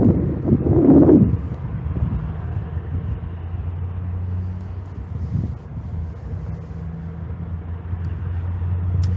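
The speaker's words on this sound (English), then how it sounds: "I think I see, definitely see a truck coming with pigs" A truck carrying pigs rumbles closer outdoors, its low engine drone growing under heavy wind buffeting the microphone, with a brief louder whoosh near the start.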